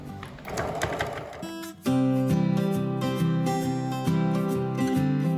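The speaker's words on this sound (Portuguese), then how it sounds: "E aí a gente vai fazer esse pesponto aqui." A sewing machine topstitches along the zipper of a travel bag, starting after a brief pause and then running in a steady, loud, continuous mechanical whir close by with no talking.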